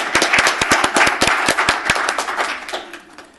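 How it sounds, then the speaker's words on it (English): A small group at a city council meeting gives a brief round of applause, sparse and distinct claps close by that thin out and fade away within a few seconds. "one more round of applause."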